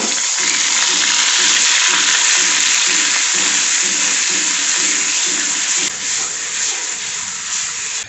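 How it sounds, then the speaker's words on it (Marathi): Ground spice paste sizzles and fries steadily in hot oil in a kadhai, a dense continuous crackle with faint rhythmic scraping or stirring, close and loud, with no talking. "तेल तापलं की याच्यामध्ये आपण वाटण घालून घेणार आहोत"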